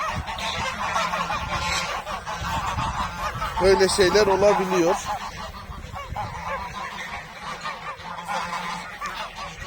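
A goose lets out a loud honking burst close by, and someone talks before and after it.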